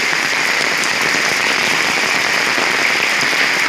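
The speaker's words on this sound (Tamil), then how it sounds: "செம்ம மழை பெய்து பாருங்கள் ஃப்ரெண்ட்ஸ்" Heavy rain pours down outside a shop, a dense, loud, continuous hiss of drops drumming on surfaces that stays unbroken throughout, with no voices.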